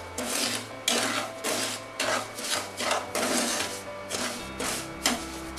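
Semolina roasting in ghee for halwa is stirred with a spoon in a pan over low to medium flame, a close, rhythmic scraping and rasping in regular strokes, about two per second, with no talk.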